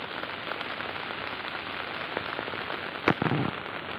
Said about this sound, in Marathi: आज तर खूप जास्त पाऊस आहे